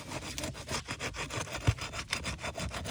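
Flat bar working under an asphalt roof shingle to break its seal line, a close, continuous rhythmic scraping and rasping with one brief thud near the middle.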